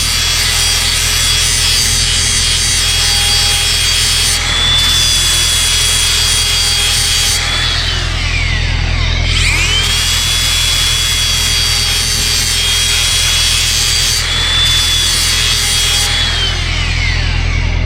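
Sharpening cutters with a power tool makes a loud, continuous grinding whine with abrasive rasp, its pitch dipping and recovering a few times as pressure changes, close by with no speech.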